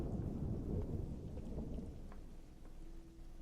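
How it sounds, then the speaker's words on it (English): A thunderstorm in a spooky time-loop video game: deep rolling thunder over steady rain, loud and close at first and then easing into a softer rumble as the rain continues. "Ah, that's just a thunderstorm."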